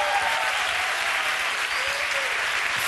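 A television studio audience claps steadily in dense, continuous applause that lasts throughout.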